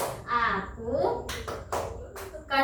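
A classroom 'tepuk konsentrasi' chant, with sharp hand claps in a rhythmic pattern alternating with a teacher's and children's voices close by.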